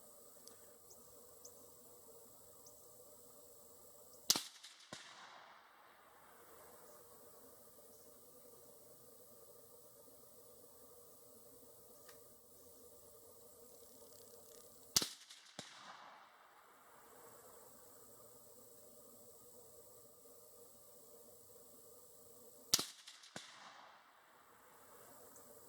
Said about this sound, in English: I'm going to shoot that 200-yard steel target